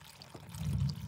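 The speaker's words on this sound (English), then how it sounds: "we're going to add in spring water" Spring water for a mahi mahi and guava sinigang stew pours into a pot as a short, soft, low gurgling splash that builds over about a second.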